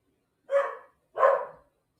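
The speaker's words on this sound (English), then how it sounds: "That dog." A dog gives two sharp barks about two-thirds of a second apart, close and loud against otherwise silent surroundings.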